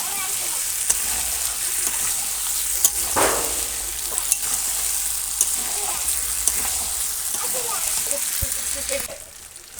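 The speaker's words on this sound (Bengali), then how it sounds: "আলুগুলো একটু কষিয়ে নেবো" Potatoes sizzle as they are sautéed into a chicken curry cooked over a coal fire, a steady close frying hiss with occasional stirring scrapes and clinks, fading near the end.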